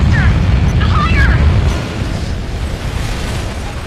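An ICBM blows up in Ace Combat Infinity with a loud, rumbling blast that rolls on and slowly fades, with faint voices showing briefly.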